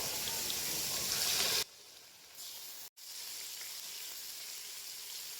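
Food sizzles and hisses steadily in a hot pan, then the sound drops away abruptly, briefly cuts out, and quieter frying resumes.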